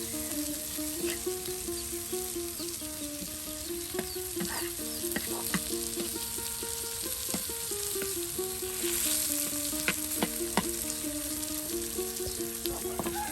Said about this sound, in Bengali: এই যে মাছ ভাজি তার সাথে পেঁয়াজ ভাজি হয়ে গেল